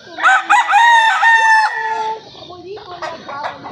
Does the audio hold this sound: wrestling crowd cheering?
no